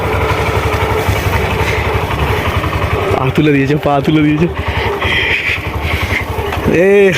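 A motorcycle engine runs with a low throbbing hum during a beginner's first ride and briefly revs higher, heard close beneath loud, excited voices.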